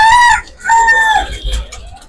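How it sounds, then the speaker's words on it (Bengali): Chickens at a poultry market give two loud, close, drawn-out calls, a crowing rooster followed by clucking, over faint low background noise. "দেখেন অনেক মুরগি"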